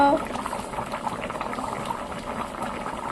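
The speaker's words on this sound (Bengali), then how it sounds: "জলটা দিয়ে দিলাম বন্ধুরা টক বগিয়ে ফুটবে" Water bubbles steadily in a pot of spicy chicken curry on the stove, a close, continuous boil.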